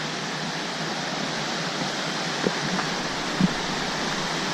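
River rapids in a Yellowstone canyon, where a calm river drops into the gorge, give off a constant broadband hiss of churning water, steady and moderately loud, with a couple of faint brief knocks.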